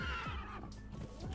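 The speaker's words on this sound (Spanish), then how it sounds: "es el caballo del Rey de la Noche" A horse whinnies in the survival video game Conan Exiles, the Night King's steed, a single shaky, drawn-out neigh lasting just over a second, loud and close with no talk over it.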